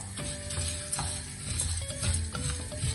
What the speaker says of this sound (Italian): Facciamo tostare bene il riso, almeno 2-3 minuti.